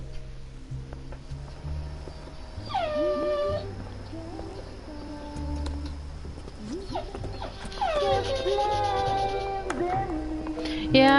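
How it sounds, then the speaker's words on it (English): A dog whines and whimpers in rising, wavering cries, close by, with quieter game sounds and some background voice underneath. "You can hear my dog whining."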